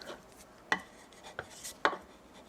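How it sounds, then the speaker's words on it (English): A chisel strikes and scrapes old repairs off a wooden table, with three sharp cuts spaced unevenly over a quiet background. "So let me chisel off some of these"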